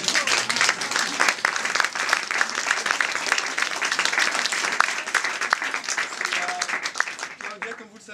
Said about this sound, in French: S'il vous plaît, on l'applaudit.